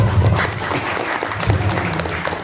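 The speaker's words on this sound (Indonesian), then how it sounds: "Kita kasih tepuk tangan dulu ayah-ayah yang ada." Steady applause from an audience at a parents' class in a school setting, a dense continuous patter of clapping lasting throughout, fairly loud and close.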